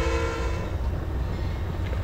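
A train rumbles along in the Trainz railway simulator game, a loud low mechanical drone with a brief tonal horn-like hum at the start.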